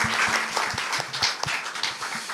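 Audience at a NASA public lecture on building a Moon base applauds a panel discussion, a dense wash of clapping with a few louder individual claps, steady and moderately loud throughout.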